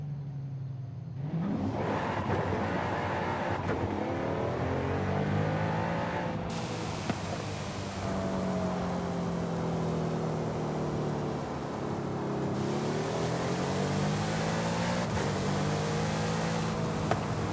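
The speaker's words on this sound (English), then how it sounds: "Because it sounds like a V8 to me." A V8 engine in the racing game Forza Horizon 5 revs and climbs through the gears, a loud continuous roar with rising and falling pitch as it accelerates and shifts, heard without voices.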